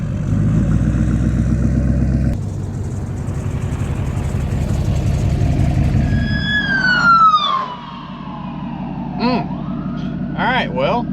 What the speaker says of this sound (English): now that we've let the ambulance go by